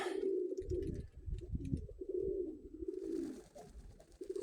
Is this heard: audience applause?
no